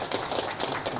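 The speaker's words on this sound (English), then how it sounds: "Big round of applause for them too." Quick, steady hand claps from an audience at a fitness expo stage, a brief close round of applause with no talking.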